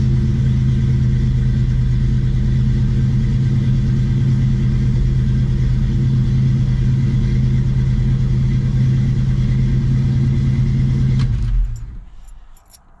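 A 1969 Ford Mustang Mach 1 with a 351 Windsor V8 idling loudly and steadily with a deep rumble after starting, then shutting off abruptly near the end.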